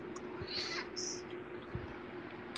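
A house cat meows a couple of times in a room, quiet and a little distant, over low background hum and room noise.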